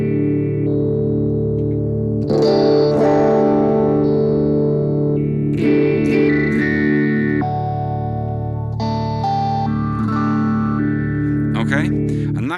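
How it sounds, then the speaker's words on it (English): Guitar played through a BOSS GT phaser set as a step effect into a Fender Twin combo amp, sustained chords and notes with choppy stepped sweeps, loud and clear, ringing out between strums. "I stick a phaser on before the amp where I'm using like a step effect."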